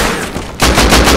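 Gunfire in Rust: a loud, rapid burst of automatic shots kicks in halfway after a rumbling lead-in, sounding close and forceful in a quick steady rhythm.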